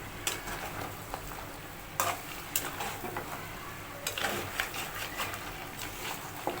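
Beef kala bhuna is stirred in a cooking pot, the spatula scraping and tapping the pan at irregular intervals over a steady sizzling fry.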